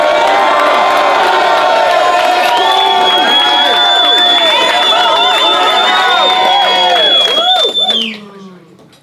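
A rap battle crowd cheers, whoops and shouts loudly and continuously, with high excited voices layered over one another before the noise drops off abruptly near the end.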